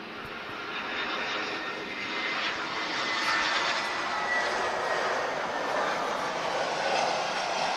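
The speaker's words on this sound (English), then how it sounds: "So this is EasyJet Europe arriving from Ibiza, airborne 93 minutes." An EasyJet Europe airliner arriving at Lisbon Airport from Ibiza gives a broad, steady engine roar and whine that swells slightly as it passes, heard from a distance with no talk.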